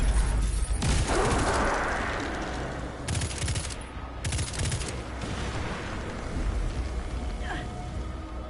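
Heavy weapon gunfire in the Destiny 2 video game: loud, rapid bursts of automatic fire with booming impacts, several volleys close together over ongoing game noise.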